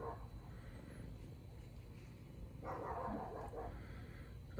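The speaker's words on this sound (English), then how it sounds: "I am sorry about the dog noise." A small dog barks at a distance in a quiet room, a few muffled yaps rising over a steady low background hum partway through.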